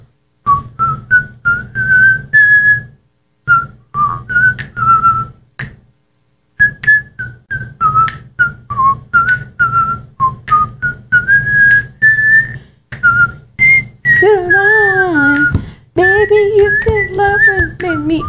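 Someone whistles a pop song melody from the late 1990s in a clear, loud run of short phrases with brief pauses, sliding between notes. The whistling grows fuller and more wavering toward the end, with soft background hum beneath.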